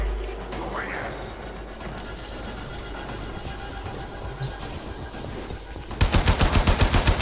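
Gunfire in the video game Warframe sounds as a loud burst of rapid, evenly spaced shots near the end, after a stretch of busy game noise.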